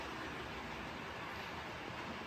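OO gauge model trains run on a layout, a steady close rush of motor whir and rolling wheels holding evenly throughout with no voices over it.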